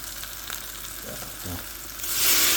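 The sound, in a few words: onion sizzling in pot for chicken rfissa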